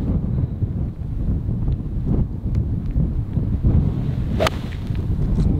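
On a windy golf course, an iron strikes a ball with one sharp, bright crack partway through, heard over heavy wind buffeting the microphone.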